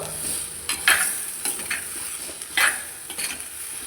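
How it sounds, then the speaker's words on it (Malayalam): Gooseberry segments for pickle are stirred in hot oil, soft continuous sizzling broken by several sharp scrapes and clinks of a spoon against the pan, close by. "ഈ നെല്ലിക്ക ഇതിനകത്തിട്ട് നന്നായിട്ടൊന്ന് ഇളക്കി, ഈ എണ്ണയൊക്കെ കിടന്ന് ഇങ്ങനെ നന്നായി ഒന്ന് ഇളക്കി"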